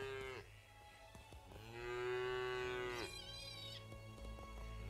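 Cow in the video game Craftopia, lowing in two long, drawn-out moos, the second rising higher, clear and close over a low steady game background.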